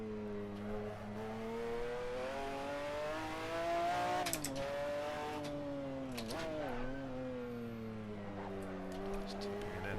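McLaren F1 GTR race car engine in Assetto Corsa on the Nordschleife, a steady high-revving tone rising and dropping through shifts, with faint fireworks pops and someone talking over it.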